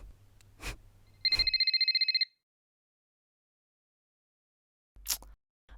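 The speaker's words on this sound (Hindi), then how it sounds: "आपका फोन कितनी देर से बज रहा है" A phone rings once in a short burst of rapid electronic trilling, bracketed by a couple of faint clicks and thumps, then silence.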